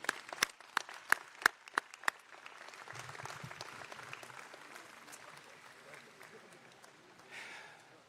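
At a Villanova University bachelor's degree commencement ceremony, a few sharp, close claps ring out before a softer, more distant crowd applause takes over and fades, with faint talk underneath.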